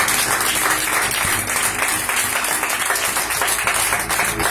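A church congregation at a Sunday service claps loudly and continuously, a dense, close wash of many hands with no speech over it.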